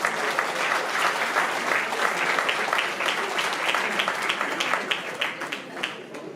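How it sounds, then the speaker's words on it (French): An audience at a Gascon village festival applauds a cook, brisk clapping from a crowd that holds steady and then thins out near the end, with some chatter underneath. "On peut l'applaudir."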